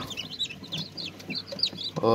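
Several newly hatched Australorp chicks peep in high, scattered chirps with soft hen clucks underneath, close by and moderately loud, ending in a louder burst.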